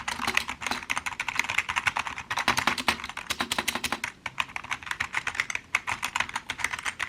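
Fast, close typing on an LVLUP Pro gaming keyboard with LED keys, crisp clicky keystrokes in steady dense runs with a couple of brief pauses and no voices.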